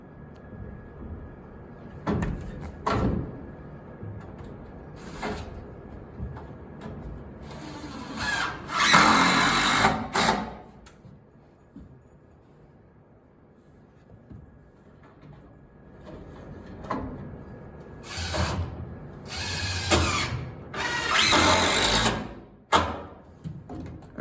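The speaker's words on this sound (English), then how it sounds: "Dakota will go ahead and fasten it to the other wall" A power tool fastens a framed interior wall to the adjoining wall, sounding in several short, loud whirring bursts of varying length separated by quieter pauses, with no talking.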